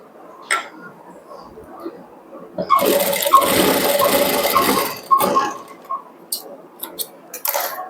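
A sewing machine stitching tucks on a blouse runs in a fast, even mechanical whir for a couple of seconds, then stops, with scattered clicks and handling taps before and after.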